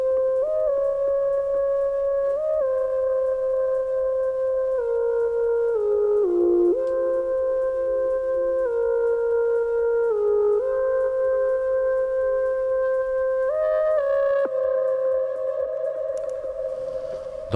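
A melodic synth lead patch in a studio session plays a slow sustained tune of long gliding tones, steady and clear throughout, with no talking.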